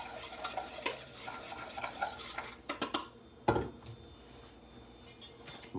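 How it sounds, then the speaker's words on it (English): Seasoned flour of salt, pepper and garlic blend being stirred in a bowl for pecan-crusted chicken, with soft scraping and clinking of utensil against dish, a sharper knock midway, close and fairly quiet, no talking. "Just mix seasoned flour."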